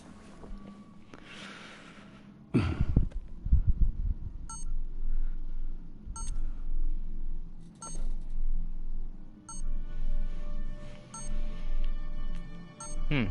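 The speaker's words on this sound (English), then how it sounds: "Helmet's beeping." Batman's helmet in the Telltale Batman game gives short, sharp electronic beeps repeating at regular intervals over a low ambient rumble, after an earlier loud thump.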